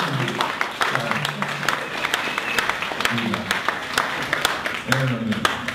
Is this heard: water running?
no